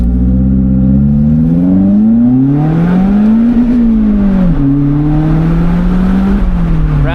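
Lotus Elise engine on a scenic road revving up through the gears and bouncing off the rev limiter, a loud, close, rising and falling engine note with a brief drop where a shift or limiter cut occurs.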